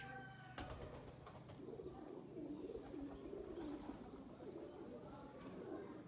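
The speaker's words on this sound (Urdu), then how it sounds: "یہ کبوتر مجھے بہت پسند ہے" A pigeon kept by a pigeon fancier at Samand Khel coos close by in soft, repeated low murmurs, steady throughout, with a brief sharp rattle near the start.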